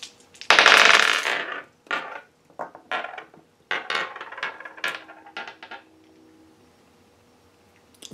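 Dice rolled for a tarot-style reading: a burst of rattling as they tumble, followed by a string of sharp clicks and knocks that thin out and stop, close and fairly loud with no talking.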